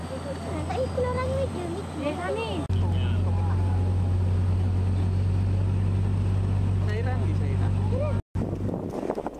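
A large tour boat's engine drones steadily on a river with a constant low hum, while people talk throughout over the motor and wind noise.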